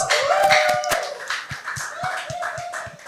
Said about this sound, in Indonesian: Tepuk tangan dulu untuk Moving Space.